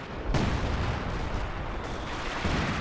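Artillery fire in Company of Heroes 2, a sharp booming shot that starts abruptly and then rolls on as a long, steady rumble of distant battle noise.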